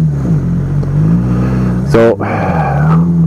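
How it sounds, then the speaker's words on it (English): A motorcycle engine idles slightly high, a loud steady low drone with a brief rising rev near the middle, while a rider speaks a word over it. "my bike's idling a bit high"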